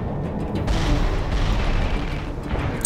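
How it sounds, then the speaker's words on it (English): Heavy grenade launcher blasts from the video game Tribes Ascend, a dense rumbling boom that swells and lingers, with a sharper pop at the very end. "Now we have this big grenade launcher type deal that basically is a grenade launcher"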